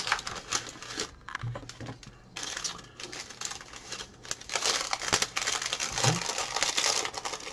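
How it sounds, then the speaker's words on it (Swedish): A crinkly paper chocolate wrapper rustles and crackles in close, irregular bursts, quiet overall with sharper crinkles now and then and no talking. "Det är ett prassligt papper."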